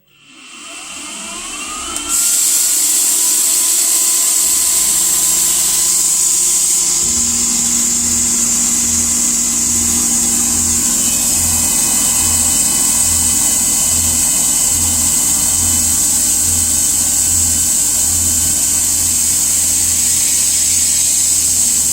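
A Precision Matthews PM-30MV CNC mill spins up to 2500 RPM and cuts metal with coolant, a loud, steady high whine over a low rhythmic throb that holds close and constant after a rising start.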